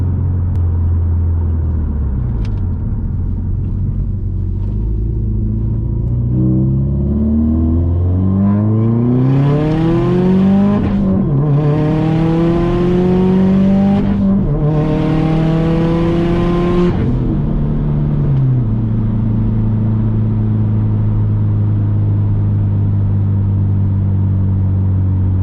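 A Subaru STI engine pulls hard through several gears during spirited driving, loud and close, with rising revs broken by quick shifts and a throaty roar before settling to a steady drone.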